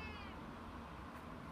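A cat meows close by, one drawn-out, fairly quiet call heard alone in a calm indoor space.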